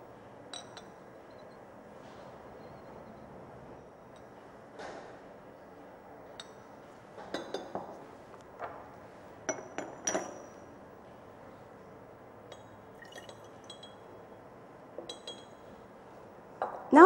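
Glassware in a chemistry lab while sample solution is pipetted into a clean conical flask for an iron-in-haematite-ore test, sparse faint clinks and taps of glass scattered through an otherwise quiet room.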